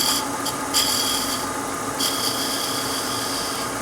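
A skew chisel rounds over a small wooden Christmas ornament on a lathe, giving a steady, close rasping scrape that runs throughout, with a few brighter bursts of cutting noise.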